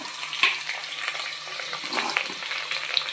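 Onions sizzle steadily in hot oil inside a pressure cooker, cooked with cardamom and pepper for vegetable biryani, a continuous crackling fry with small pops and no voices.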